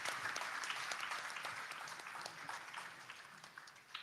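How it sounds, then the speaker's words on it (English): An audience claps steadily as guests enter a career guidance workshop, a dense wash of applause that slowly thins toward the end. "let's clap our hands as our apostles come in"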